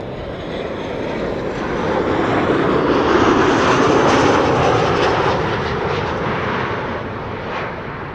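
An aircraft arriving on the Kaagbaan runway, roaring loudly and close as it passes, the broad engine noise swelling to a peak midway and easing slightly toward the end.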